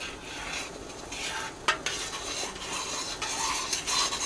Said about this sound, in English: we pretty much want to be stirring at all times, so I'm going to use the candy thermometer to stir